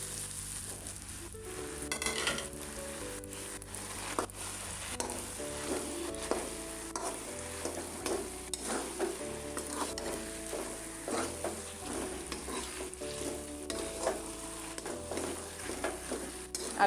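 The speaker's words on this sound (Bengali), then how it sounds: "মাছগুলো দিয়ে নাড়ব।" Rui fish frying in a pan and being stirred at home gives a steady low sizzle with occasional scrapes, under continuous tonal background music.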